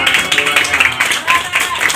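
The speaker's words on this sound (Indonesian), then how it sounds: "Jadi tepuk tangan buat mereka" Brief applause from a gathered audience at a literary community meetup, a steady patter of many hands clapping with faint voices mixed underneath.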